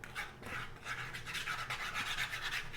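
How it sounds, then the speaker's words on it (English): Oil heats in a frying pan for breaded, cornstarch-coated pork chops, giving a steady, close, moderately loud broadband hiss and crackle with a rough, rasping texture and no talk over it. "our oil is heating up"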